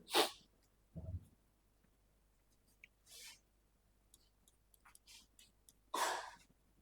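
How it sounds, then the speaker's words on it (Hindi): A single sharp sneeze bursts out right at the start of a classroom chemistry lesson, loud and brief, followed by scattered soft rustles and a second noisy burst near the end. "छींकना बंद करो।"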